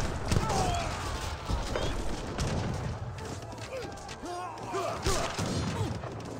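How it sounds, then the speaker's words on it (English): Light cannon firing in the Age of Empires 3 strategy game, a rapid run of booming shots and crashing impacts mixed with battle noise under steady commentary. "Now got the light cannon firing away."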